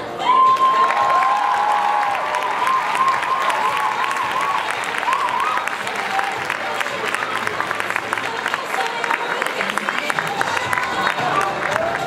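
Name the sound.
audience applause and cheering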